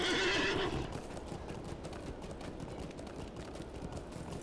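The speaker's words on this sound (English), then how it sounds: "I'll go for my Rivendell horse this time." A Rivendell steed in the online game Lord of the Rings Online gives a loud, close whinny, then its hooves break into a steady galloping clip-clop that carries on alone.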